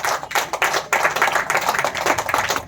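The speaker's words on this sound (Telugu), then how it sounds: "బిగ్గరగా చప్పట్లు కొట్టి ప్రభువును మహిమపరచండి." A church congregation in Nellore claps loudly together in a fast, steady rhythm, a crisp and continuous run of close-by hand claps with no talking.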